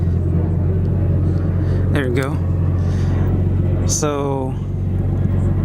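A Nissan R32 Skyline engine settling into idle, a steady low rumbling drone that runs throughout while someone speaks briefly over it.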